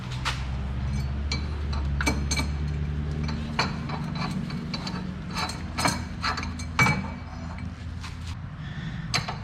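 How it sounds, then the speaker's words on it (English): A new inner tie rod going into a car's steering rack, with repeated metallic clicks, ratcheting and clinks over a low hum, close and steady, with no talking. "And we go ahead and install our new inner tie rod."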